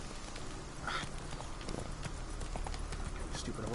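Horse hooves clip-clopping in The Witcher 3 video game, a steady close rhythmic clatter of footfalls running the whole time, with someone talking over it.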